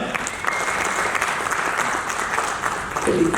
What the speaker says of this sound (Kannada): ಒಂದು ಜೋರಾಗಿ ಚಪ್ಪಾಳೆ